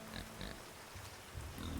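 Flying pigs in the video game Fabledom giving faint, soft grunts and oinks in short bursts over a noisy game soundscape.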